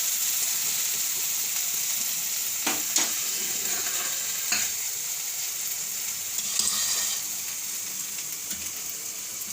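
Fenugreek leaves for methi-banana shaak cook gently in a pan over a low gas flame, giving a steady, even sizzle with a few soft stirring scrapes and no talk.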